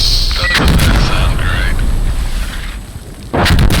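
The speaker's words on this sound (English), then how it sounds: "There's also artillery coming in" Artillery fire lands in Insurgency Sandstorm with a loud, sustained rumbling boom over the first three seconds, and another heavy blast hits near the end, amid battlefield noise and some voice chatter.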